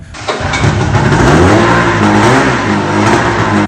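A small walk-behind engine on a mini dumper, a "wonky donkey", fires up after a pull-cord start and revs hard, loud and close, with a steady throbbing drone that holds throughout.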